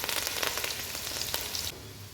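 Small onions and curry leaves fry in hot groundnut oil, a close, loud, crackling sizzle that drops abruptly to a quieter simmer near the end.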